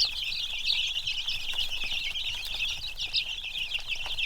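Red Ranger chicks on a farm keep up a steady chorus of high peeping and soft clucking, close and continuous throughout, with faint rustling underneath.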